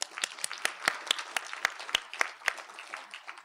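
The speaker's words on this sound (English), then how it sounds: "So let's give USC a round of applause." An audience at a 20th anniversary celebration applauds for USC, a scattered round of clapping with distinct individual claps at moderate distance, no voices over it.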